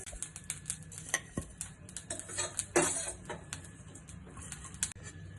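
Pumpkin seeds frying in a pan for chutney powder, with a spoon scraping and clinking against the metal in irregular taps and stirs, close and fairly quiet.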